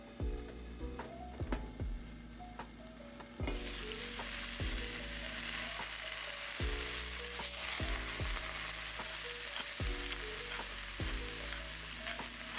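Canned corned beef and vegetables fry in a covered pan, a steady close sizzle that swells louder partway through and runs continuously beneath repeated low thumping musical beats, with no talking.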